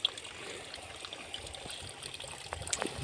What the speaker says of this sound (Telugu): ఇక్కడ పైపుల దగ్గర కొన్ని నీళ్ళు వస్తూ ఉంటే అవే తాగుతూ ఉంది చూడండి మా ఆవు